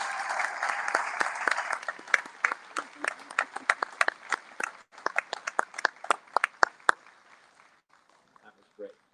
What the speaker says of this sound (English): How about one more round of applause for our third grade